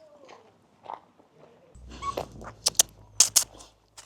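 Dog whimpering and yipping during a reactive-dog training session, faint soft whines at first, then a few sharp high yelps over a low steady hum.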